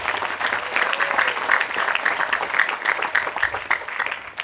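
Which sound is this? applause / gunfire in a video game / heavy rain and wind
applause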